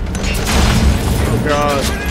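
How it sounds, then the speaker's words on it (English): Grenade blasts in the stealth game Metal Gear Solid Ground Zeroes, with a deep booming rumble and crackling debris while someone talks over it. "they're throwing grenades now"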